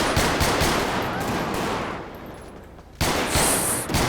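Dense gunfire sprays in GTA 5 during a civilian police mod session, the rapid bursts running almost continuously, easing briefly and then returning loud and close.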